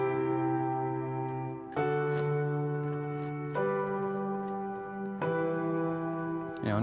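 A sustained keyboard progression of four held root-position chords, each struck and left ringing for nearly two seconds before shifting to the next, played alone.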